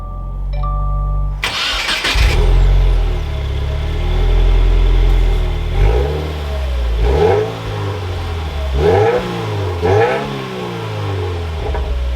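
A 2021 Subaru WRX Premium with manual clutch cranks and fires up with a loud burst, then settles into a steady idle broken by several quick throttle blips that rise and fall, no voices.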